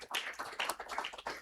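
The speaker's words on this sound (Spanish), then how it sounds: "Dale un fuerte aplauso al Señor por eso" A church congregation clapping in praise during a Spanish-language sermon, a brief, dense burst of scattered hand claps without talk.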